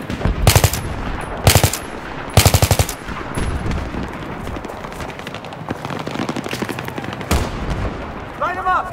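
Gunfire in the video game Battlefield 3: loud, close machine-gun bursts in several sharp volleys, separated by quieter stretches of distant shooting and battle noise, with brief voices in the mix.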